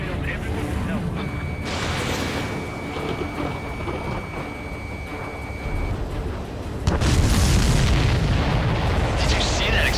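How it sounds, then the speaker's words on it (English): Heavy rumbling explosions and booming fire from an enemy supply ship blowing up in the combat flight game Ace Combat 7, loud and dense throughout, with a stronger blast surge near the end and a voice over the din. "Did you see that explosion? Looks like that's one of them down."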